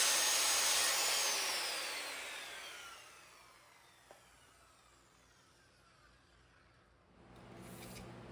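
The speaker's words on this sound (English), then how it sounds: "I use my circular saw with a guide to cut a nice straight line." A circular saw guided along a straight line through an end grain cutting board glue-up, loud whining as the blade spins down, a quiet stretch, then the motor rising again near the end.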